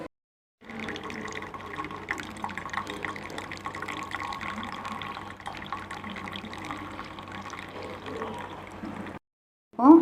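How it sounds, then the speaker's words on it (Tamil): Cooked jamun fruit juice strained through a filter, a steady trickling, dripping flow of liquid that runs continuously for several seconds at close range, then stops. "இப்போ நம்ம இதை வடிகட்டி எடுத்துகிட்டு வந்துடலாம்."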